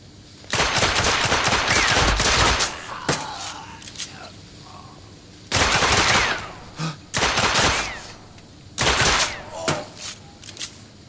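Loud repeated bursts of gunfire in the video game The Order: 1886, several intense volleys separated by short pauses, with shouted voices between the shots.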